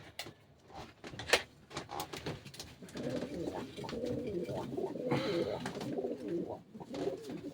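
Pet pigeons or doves coo softly in a steady, low, burbling series, close by and fairly quiet, with a few faint knocks and rustles around them.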